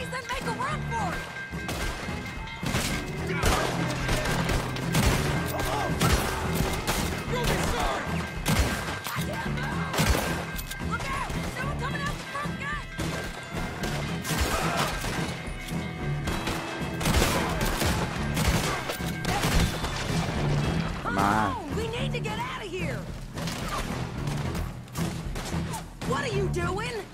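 Rapid gunfire and crashing impacts in the Red Dead Redemption video game, a dense string of shots and bursts throughout, mixed with in-game character voices.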